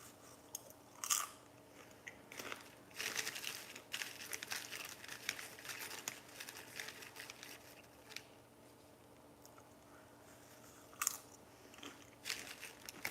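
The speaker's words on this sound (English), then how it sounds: "I only made one ASMR popcorn. Can you hear it well? Is it crunchy?" Crunchy popcorn is eaten in close, quiet bites, with scattered crisp crunches and chewing separated by soft pauses and faint crinkling.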